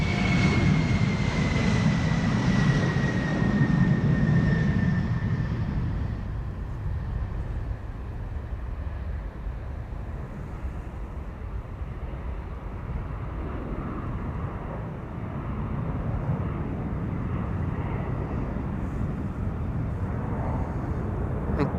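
An Embraer 170 regional airliner departs Schiphol bound for Glasgow, its jet engines roaring loudly with a descending whine early on, then settling into a steady, more distant rumble that carries on alone.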